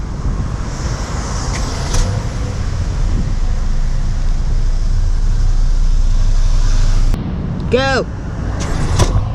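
A 2022 Honda Civic Sport rolls along on a test drive, with a steady low road and engine rumble and tire noise from inside the cabin; someone briefly calls out near the end.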